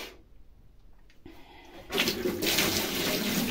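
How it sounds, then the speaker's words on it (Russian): Water from a hose pours into a washing machine at a dacha, starting after a quiet stretch with a few clicks and then running as a steady close rushing splash. "Сейчас я воду налью."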